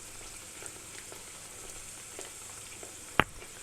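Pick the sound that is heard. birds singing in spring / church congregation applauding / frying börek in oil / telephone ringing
frying börek in oil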